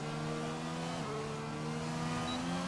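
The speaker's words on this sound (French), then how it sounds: "La Renault, la seule Renault de la Q3 qui va pouvoir s'élancer." Renault Formula 1 race car in qualifying accelerating, a high engine whine that steps up in pitch through gear changes, steady and fairly distant, with no talk.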